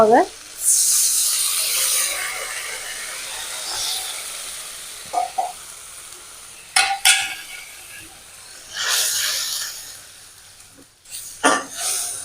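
Spice paste of cumin and dried red chilli paste frying in a pan with a splash of water, bursts of hissing sizzle broken by short scraping stirs, fading between strokes.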